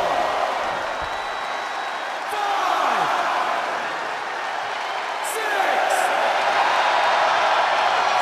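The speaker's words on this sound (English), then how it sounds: "The sound of this crowd is deafening" A wrestling arena crowd in the WWE 2K22 video game, at a SummerSlam match between Roman Reigns and Brock Lesnar, roars steadily and loudly throughout, swelling in waves, with shrill whistles and shouts over the din.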